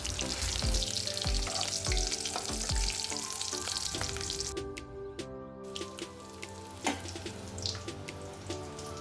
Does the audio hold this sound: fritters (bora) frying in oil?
yes